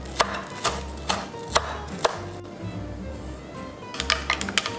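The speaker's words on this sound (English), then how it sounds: "I'm gonna slice up 1 spring onion" A knife slices a spring onion on a cutting board in a series of crisp, close chops, some in quick runs and some spaced apart, with a short pause midway and no voices.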